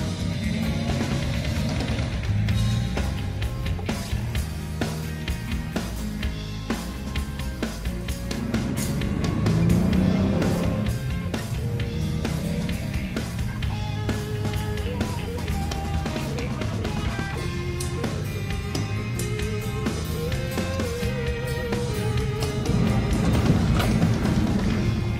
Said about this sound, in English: The team gets cracking, wheel spinning, and V6 roaring.